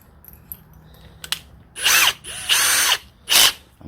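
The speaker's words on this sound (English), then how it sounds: "I'm going to hold it down firmly while I drill through the plastic." A power drill drilling through plastic whirs in three short, loud bursts close by, with brief pauses and faint clicks between them.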